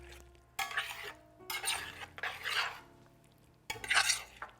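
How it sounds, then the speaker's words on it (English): A plant-based pot pie filling is stirred around in a pan, giving several scraping, swishing bursts of a spoon against metal with short quiet pauses between them. It is close and fairly loud, with no voices. "you're gonna kind of just pour it in there and then stir it around"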